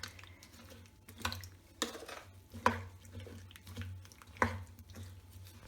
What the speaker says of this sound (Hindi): हम इनको अच्छी तरह से मिला देंगे